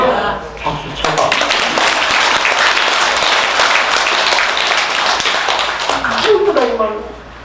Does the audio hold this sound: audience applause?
yes